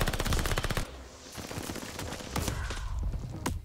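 Gunfire in Call of Duty Vanguard, a WWII video game campaign battle with a sniper firing: a dense rapid burst of loud shots opens, then scattered sharp cracks and impacts ring out over a busy combat din.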